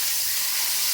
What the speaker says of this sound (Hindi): तड़का हमारा यहाँ पर रेडी हो चुका है। इसे हम डाल देंगे दाल के ऊपर।